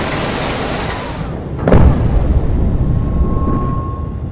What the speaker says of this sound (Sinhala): මේ ගුවන් යානය ගුවන්ගත කරලා තත්පර 37කින් පුපුරලා ගියා